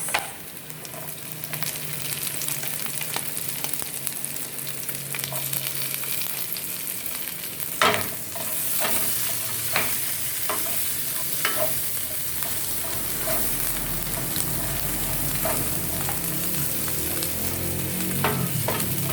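Onion fries in a pan while a utensil stirs it, a steady close sizzle broken by repeated scraping and clinking strokes, with no talk.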